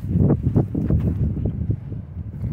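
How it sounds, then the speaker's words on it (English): Strong gusty wind buffets the microphone, producing loud, rumbling low-frequency blasts that swell and fade continuously. "I know it's super windy. I don't know how good this camera is going to do with the wind noise."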